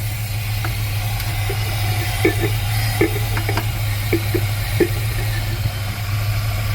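A 1979 Chevrolet C15 pickup engine idling steadily with a deep, low, throaty drone, close and continuous, with faint light ticks over the rumble and no voices.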